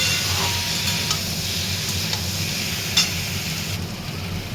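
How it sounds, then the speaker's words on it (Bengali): Garlic paste sizzling steadily as it fries in a pan, a continuous close crackle with occasional stirring scrapes and small pops, no voices. "রসুনের পেস্টটা দিয়েও একটু ভালো করে ভাজা ভাজা করবো"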